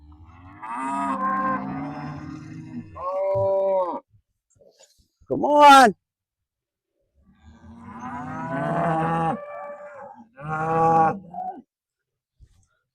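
A cow moos loudly twice among several long, low moos, with a person calling out briefly in between.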